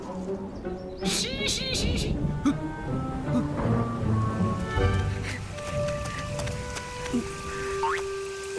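Cartoon rain falling steadily as a soft wash under a busy mix of music, animated sound effects and character voices.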